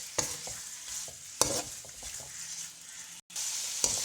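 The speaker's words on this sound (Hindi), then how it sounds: "मसाला सारा मैंने निकाल लिया और उसी घी में हम डाल देंगे चिकन।" Chicken frying in hot ghee in a pan, a steady close sizzle broken by several stirring scrapes and clinks, with no talking.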